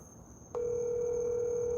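A telephone tone on an outgoing call starts abruptly after a quiet moment and holds as a single steady, loud, continuous tone to the end, with no talk.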